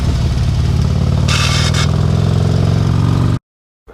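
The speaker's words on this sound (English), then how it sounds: "Scraping a floorboard on your bike happens when your lean angle is severe enough that your motorcycle contacts the road." A Harley-Davidson motorcycle's floorboard scrapes the road in a short, harsh grinding burst over a loud, steady engine drone. The engine runs close and constant before the sound cuts out.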